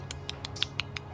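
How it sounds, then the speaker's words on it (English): A wren gives a rapid machine-gun-like call, six sharp, evenly spaced dry ticks in about a second, close and clear over a low background hum. "A little machine gun call."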